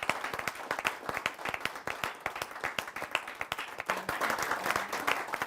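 An audience at a televised Hindi poetry gathering claps to welcome poet Dinesh Raghuvanshi, with sharp, distinct hand claps in a steady, fairly quick rhythm, moderately loud and close, with no talking over them.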